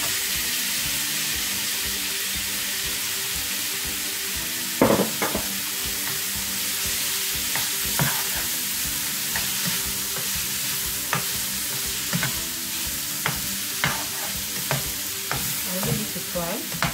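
Minced vegetables stir-frying in a pan for chow mein, a steady loud sizzle throughout with repeated scraping clicks of a utensil stirring at irregular intervals, close up and without speech.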